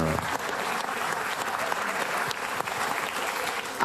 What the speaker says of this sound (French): Attends la fin des applaudissements.